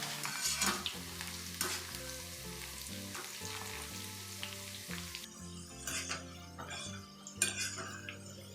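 Ivy gourd pakodi deep-fry in hot oil, a quiet, steady sizzle with clinks of a utensil against the pan now and then, under soft background music.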